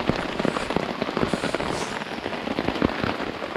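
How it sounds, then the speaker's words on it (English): Rain falls steadily in woodland, a dense even patter of drops on leaves and surfaces with scattered sharper ticks, close and continuous with no voices. "So sounds like it's beginning to rain again now."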